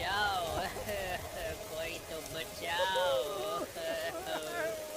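Steady rain pours as a horror-story sound effect, a continuous hiss beneath a voice that speaks throughout with long wavering tones.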